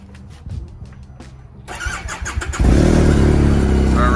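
Speed UTV E85 engine cranking with a few sharp clicks, then catching at once and settling into a loud, steady close-up rumble.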